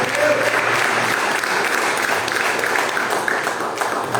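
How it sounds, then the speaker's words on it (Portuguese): Church congregation giving loud, sustained applause during a sermon, a thick continuous wash of clapping with some crowd voices mixed in. "dá aquela salva de palmas linda para Jesus"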